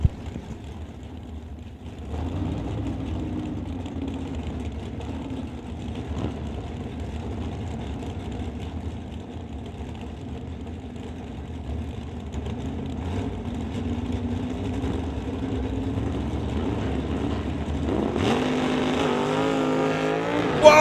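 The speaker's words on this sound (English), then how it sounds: "Whoa, big wheels up launch for Scott Winterbottom, lands hard, and he'll abort his run as Abagug goes to the top end" Drag racing cars, a 1967 Chevy Nova and a Chevy 2, rumble at the line and then launch, engines roaring steadily at a distance with a louder, harsher surge near the end, no talking.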